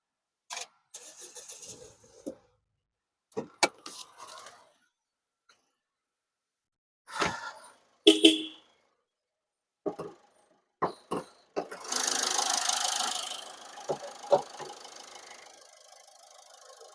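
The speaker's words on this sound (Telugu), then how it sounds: "ఫస్ట్ అయితే ఇంజన్ అయితే స్టార్ట్ చేస్తున్నాను, చూసుకోవచ్చు." A 2018 Ford Freestyle Titanium diesel car engine is cranked and started, with scattered clicks and knocks before a broadband engine roar takes over and settles into an idle, recorded close up with no talking.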